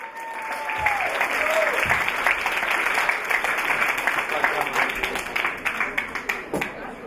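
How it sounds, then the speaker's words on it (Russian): An audience at a Moscow rope-bondage festival event bursts into sustained applause, many hands clapping densely while a host's voice briefly carries over the start and individual claps stand out toward the end. "вот он, ваши аплодисменты."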